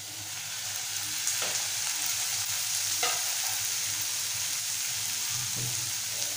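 Red cowpea (chavali) bhaji being stir-fried in a pan, a steady soft sizzle running throughout with a few sharper scrapes and stirring clinks, close by and with no talking.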